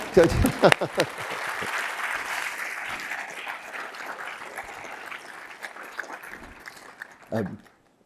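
An audience claps, starting with a sharp burst that settles into steady applause, then fades out as a voice briefly speaks at the end.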